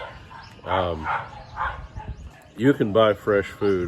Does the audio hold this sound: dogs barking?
yes